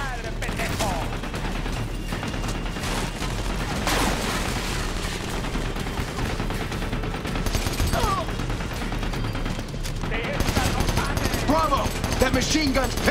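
Sustained machine gun fire in the video game Army of Two: The Devil's Cartel, a dense continuous rattle of shots and blasts throughout, with voices talking over the fighting.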